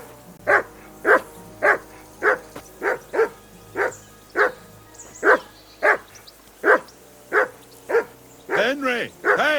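A dog barks repeatedly at a steady, even rhythm, loud and close, in the medieval game Kingdom Come: Deliverance II, ending with a drawn-out whine; no voices over the barks.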